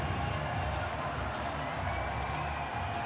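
Home crowd at a minor-league hockey game between the Athens Rock Lobsters and the Mississippi Sea Wolves, cheering and roaring steadily inside the arena, a dense continuous wash of voices.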